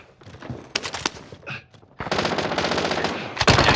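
Rapid automatic gunfire in a shooter video game, with bursts of sharp shots, a short pause, then sustained loud firing that continues to the end, close and intense.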